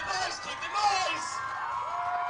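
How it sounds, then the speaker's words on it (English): A dense, roaring crowd cheers and whoops at a live Mini Meltdown demolition derby, steady and loud throughout with shouts rising above the din and a voice or two audible in the mix. "Listen to the crowd."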